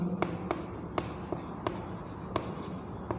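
Chalk or pen writes out a maths solution in a classroom lesson, making a steady series of short, distinct tapping strokes at a fairly even pace over a low background hum.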